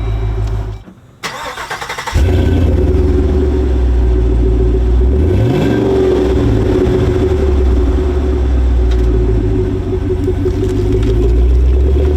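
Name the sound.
V8 engine revving at full throttle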